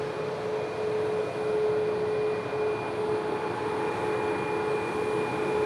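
An airliner taxiing past Sheps Mound at Sydney Airport toward runway 34 right, a steady droning engine whine with a sustained tonal hum, moderately close and continuous, with no voices.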